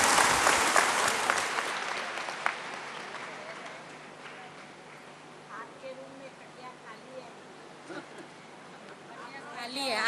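An audience at a devotional bhog-offering gathering for Dadiji claps in a burst of applause that is loudest at the start, then fades to scattered clapping under a murmur of room noise.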